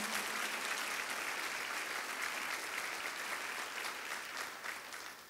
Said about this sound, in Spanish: Vamos, démosle un fuerte aplauso al Señor